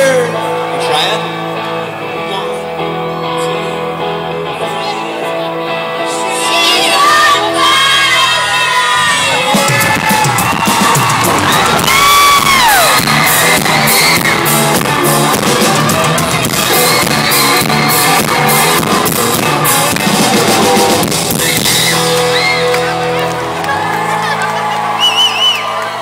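A concert crowd sings along to a song over the band's music, the loud mass of voices swelling midway with cheers and shouts before easing off.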